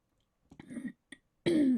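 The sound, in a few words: throat clearing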